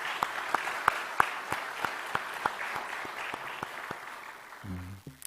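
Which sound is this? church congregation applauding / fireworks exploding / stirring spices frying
church congregation applauding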